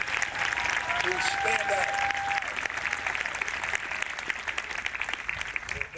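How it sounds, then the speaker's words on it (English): Applause for graduating cadets at a graduation ceremony rolls on steadily and fairly loud throughout, with a voice speaking over it. "Another round of applause for the cadets who"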